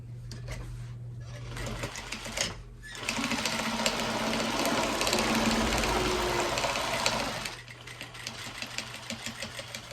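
A sewing machine runs a brief back stitch, a low idling hum that swells into a steady fast stitching whir for several seconds before easing back down.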